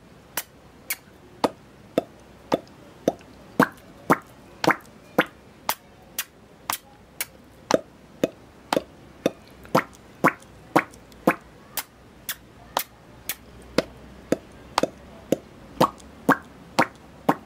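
Mouth-made pops and smacks imitating kisses, tennis ball hits and whoopee cushions, a voice making a steady run of about thirty sharp, close clicks at roughly one per half second, with no talking.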